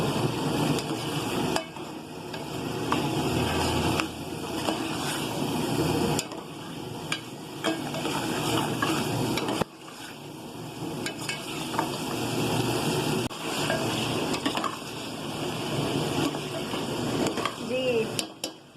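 Chicken liver is stir-fried bhuna-style over a high flame in a pan, giving steady sizzling with repeated scraping and stirring and a few sharp knocks of the spoon, while someone talks over it.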